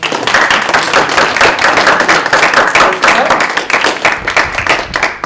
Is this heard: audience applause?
yes